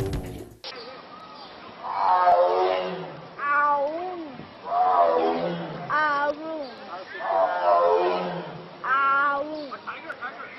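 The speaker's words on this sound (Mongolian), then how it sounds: "Энэ бар бол амьтны хүрээлэнд байхдаа нэгэн бяцхан охинтой ярилцаж байгааг та анзаарах болно" A tiger at a zoo gives repeated rising and falling meow-like vocalizations in several bursts, close and fairly loud, with a human voice mixed in among the calls.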